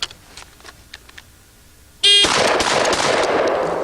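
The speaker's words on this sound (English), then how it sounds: "let's just see how fast I can run a pump gun this afternoon" A pump shotgun fires in rapid succession after a shot timer's sharp beep, the blasts close and loud, running together into a dense roar that follows a quiet stretch of faint ambient noise.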